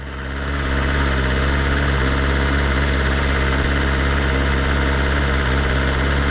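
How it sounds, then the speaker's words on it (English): A 2023 BMW M1000R motorcycle idles at a high, steady rpm up close, a continuous even engine drone that swells slightly at the start and then holds without a voice over it. "Idle's quite high, to be fair."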